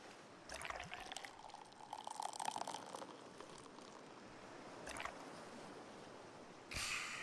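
Beer poured into a glass in the video game Dave the Dive, a faint, soft liquid trickle and fizz with a few brighter splashy bursts, ending in a short loud rush.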